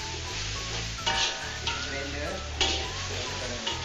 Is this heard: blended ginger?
yes